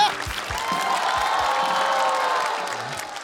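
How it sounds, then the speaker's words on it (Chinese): A live stand-up comedy crowd applauds warmly, a dense, even patter of clapping that swells and holds for several seconds before easing off, with scattered whoops mixed in. "感谢大家热情的掌声啊"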